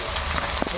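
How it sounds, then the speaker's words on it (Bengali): Onions fry in oil for a rural Bengali village chicken curry, giving a steady close sizzle with scattered small pops and crackles. "প্রথমে ভেজে নেবো ভালো করে পেঁয়াজ।"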